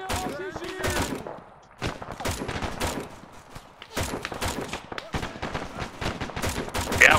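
Gunfire in an Arma 3 counterinsurgency firefight: rapid, overlapping rifle and machine-gun shots crackle in dense volleys, briefly thinning out before resuming at full intensity.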